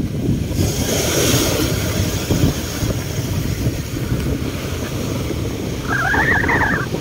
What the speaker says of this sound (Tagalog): Malaki ng alon, no?